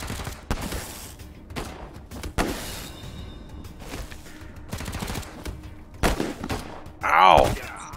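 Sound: light machine gun fire in Wasteland 3 video game

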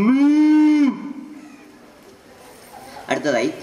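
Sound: voice imitating a cow mooing

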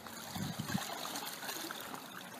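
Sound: air bubbles escaping from submerged air mattress leak in water

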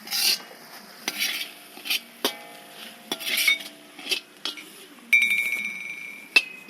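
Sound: stirring chicken fried rice in a pan

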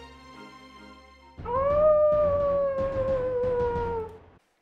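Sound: wolf howling and yelping sound effect

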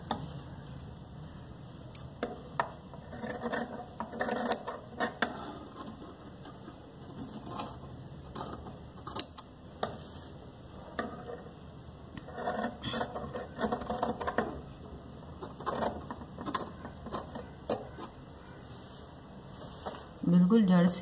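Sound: cutting stitched fabric and buckram with scissors

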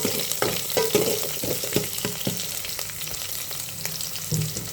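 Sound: onion and chili frying in oil

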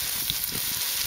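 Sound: mushrooms frying in hot oil

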